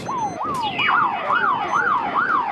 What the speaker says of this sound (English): There's the siren in the background.